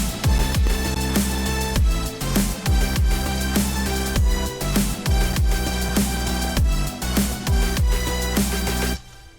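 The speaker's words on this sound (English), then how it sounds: "So all the drop together would sound like this." A future bass drop plays alone and loud, with rhythmic sidechain pumping on sustained chords, punchy repeated kicks, distorted leads and reverb tails, cutting off abruptly at the end.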